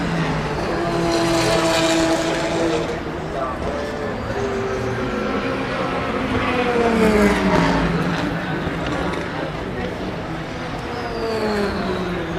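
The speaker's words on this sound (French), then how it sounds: "la Toyota qui vient de repasser devant nous" A Toyota race car at the 24 Hours of Le Mans, night running, passes by with its engine note rising and falling amid continuous crowd and track ambience, while a commentator talks throughout.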